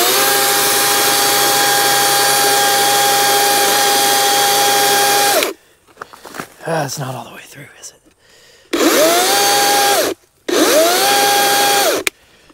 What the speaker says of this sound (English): Grab a chainsaw, get a chainsaw point of view.